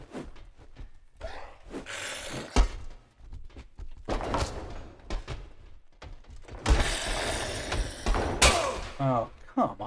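Metal bar strikes in the melee combat game Exanima land as several sharp, heavy thuds and clanks scattered among shuffling combat noise, while someone talks throughout.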